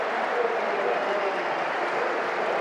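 A cricket crowd at Lord's applauds a batsman's fifty during an England versus New Zealand Test match, a dense, sustained wash of clapping at steady loudness.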